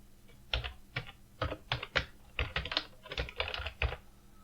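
Keys tapped on a computer keyboard while a title is typed into a LibreOffice Impress text box: a close, irregular run of soft clicks in short bursts with small pauses.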